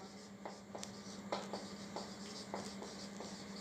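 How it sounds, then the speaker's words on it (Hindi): Marker or chalk writing on a board during a class 10 geometry lesson on the Pythagoras theorem, heard as a few short, scratchy strokes at close range over a steady low hum, with no talk. "इसको भी बेटा हम लिखेंगे बाय पाइथागोरस लॉ"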